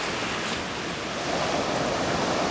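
Ocean waves around 80 cm to 1 m breaking at Anglet beach, a continuous broad roar of surf with a slight swell toward the end, no voices.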